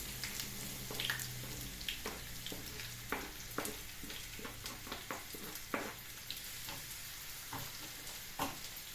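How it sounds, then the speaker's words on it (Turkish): Two chopped onions sizzle and crackle steadily in hot oil for a karnıyarık filling, with scattered pops and occasional scraping stirs, fairly quiet and close. "kızgın yağımıza ben iki baş soğan doğramıştım. İç harcı için onlar biraz kavrula koydum"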